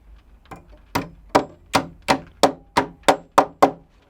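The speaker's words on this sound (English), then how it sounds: "We'll nail in the tab first." Hammer driving a nail into a wooden tab: about ten sharp, evenly spaced knocks, each louder and firmer than the one before, close by with no talking.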